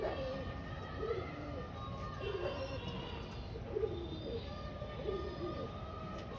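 Domestic house pigeons coo in a steady, rolling series of low throaty phrases about once a second, close by, over a constant background hum with a faint distant siren-like tone.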